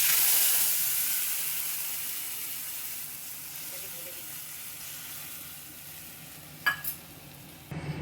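A soaked spice mixture poured into hot oil with nigella seeds gives a loud burst of sizzling and hissing that slowly dies down to a quiet simmer, with a couple of sharp utensil knocks near the end.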